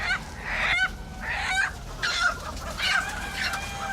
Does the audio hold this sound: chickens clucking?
yes